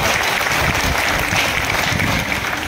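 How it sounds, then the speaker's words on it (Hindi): Dense, steady audience applause at a Bollywood Park show at Film City in Mumbai, a full crowd clapping loudly and continuously with no voices over it. "जोरदार तालियां होनी चाहिए।"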